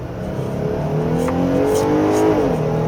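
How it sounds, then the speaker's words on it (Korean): A 2022 Jeep Gladiator Rubicon pulls away in part-time 4H mode on a winding road, its engine revs climbing briskly with rising, loud drone as the transmission shifts, heard from the cabin. "차의 장르에 어울리지 않게 굉장히 경쾌하게 엔진 회전이 올라가고요"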